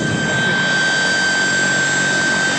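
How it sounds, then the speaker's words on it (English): A helicopter flies overhead during a film shoot for a Nissan Sentra SE-R drift car, a loud, steady droning whir of rotor and engine with a high whine, continuous and close. "The helicopter is actually handling really well."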